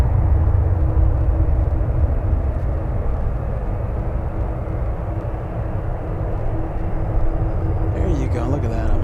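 Aer Lingus airliner taking off at San Francisco airport, a steady broad engine roar that holds loud for the whole stretch with a thin whine above, heard from a distance with people talking over it.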